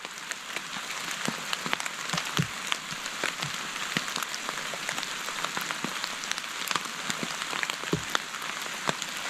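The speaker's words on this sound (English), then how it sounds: "it is raining rather nicely" Heavy rain beats on a Snugpak Ionosphere tent in the middle of the night, a dense, continuous patter with sharper individual drops striking close by throughout, no voices.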